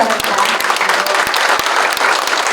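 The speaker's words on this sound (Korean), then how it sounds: "큰 박수로 환영해 주시길 바랍니다." Audience applause fills a large auditorium at the 2025 Agro-Industrial Complex Leap Day ceremony as guests are welcomed, steady dense clapping from a sizable crowd throughout with a few sharp individual claps standing out.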